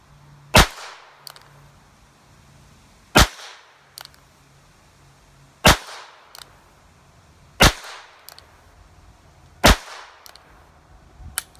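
Five sharp .22 Short rounds fired one at a time from a revolver, spaced about two and a half seconds apart, each a loud crack with a brief decaying tail and no talking.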